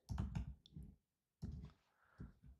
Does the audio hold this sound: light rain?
no